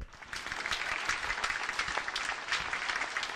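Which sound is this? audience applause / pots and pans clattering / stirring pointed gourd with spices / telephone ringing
audience applause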